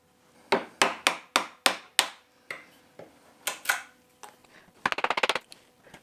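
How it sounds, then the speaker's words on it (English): A chisel is struck into wood down to a marking gauge line on a dovetailed napkin holder, with a quick series of sharp, loud, close mallet taps followed by a few spaced blows and a fast rattling burst. "we're gonna find the line from our marking gauge with the chisel"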